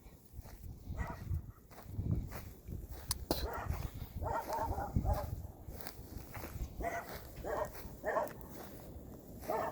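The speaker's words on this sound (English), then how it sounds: "What are you barking at, Starlight?" A dog barks several times outdoors at moderate distance near a chicken area, with rustling footsteps and movement between the barks.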